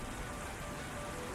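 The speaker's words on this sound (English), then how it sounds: "Judging by the clouds, I'd say this rain won't be letting up anytime soon." Steady rain in Ys X Nordics, a continuous, even hiss of falling drops without pause.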